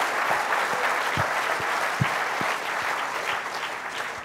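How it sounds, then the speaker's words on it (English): Audience applause at a climate change lecture in Melbourne, a steady crowd of clapping hands held at an even level throughout, with a few sharper individual claps standing out. "Let's have a round of applause for Andrew Bolt."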